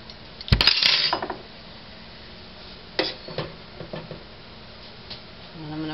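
Carrot chunks tumble into a pint glass canning jar with a bright clattering clink, followed a couple of seconds later by a few softer knocks as more pieces drop in.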